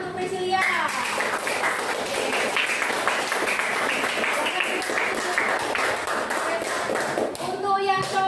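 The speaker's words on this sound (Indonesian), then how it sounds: "Tepuk tangan untuk Priscilia" A fifth-grade primary school class claps for a classmate, a loud, continuous burst of many small hands that fills most of the stretch, with children's voices heard at the start and end.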